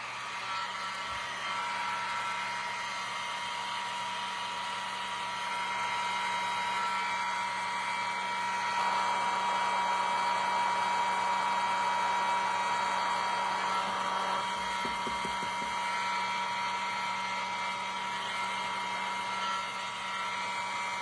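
A hair dryer blows steadily and loudly on freshly painted Christmas ornaments, a constant whirring roar with a slight shift in pitch partway through, with no talking.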